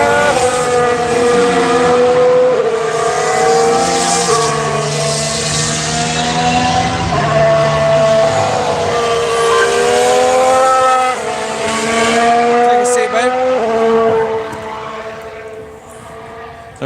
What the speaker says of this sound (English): Here's the Ferrari.